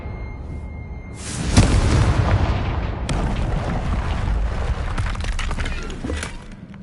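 Confringo fire spell bursting in Hogwarts Legacy on PS4, a loud close explosion that rises into a long roaring rumble with crackling debris and a second blast partway through.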